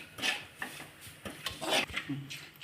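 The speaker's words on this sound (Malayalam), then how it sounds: "മുളക് പൊടി നമ്മൾ അധികം കരിഞ്ഞു പോകാതെ നന്നായിട്ട് ഇളക്കി കൊടുക്കണം." Chili powder is stirred in a pan for a spicy Kerala fish curry, making scattered scraping and clinking strokes of a utensil against the pan at close range, uneven and fairly quiet.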